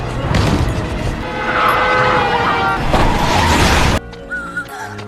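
Car rolling fast backwards downhill after the handbrake is pulled in a film scene, with a roaring engine and rushing motion noise, a crash-like burst, then a sudden cut to quieter ambience.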